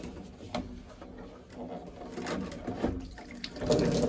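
Water spurts and splashes from a blocked boiler condensate trap after the hose is taken off, a gurgling, sloshing run of sound with a few knocks, heard close in a domestic setting with no talking.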